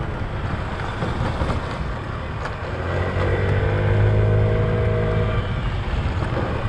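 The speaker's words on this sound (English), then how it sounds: "you're just turning a throttle and you're riding 30 kilometers an hour" A 2021 SYM Mio 50 scooter rides along at around 30 to 40 km/h. Its small engine drones steadily under heavy wind rush, and the tone rises slightly partway through. The sound is loud and continuous, with no talking.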